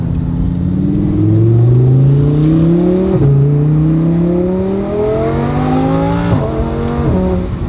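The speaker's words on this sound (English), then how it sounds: "Ooh, the downshifts." A sports car engine in a SEMA build drops through dual-clutch downshifts, loud and close, its revs climbing in repeated sweeps with sharp blips between gears and no talk over it.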